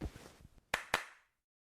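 Two sharp hand claps in quick succession close to the microphone, following a few softer taps, then silence.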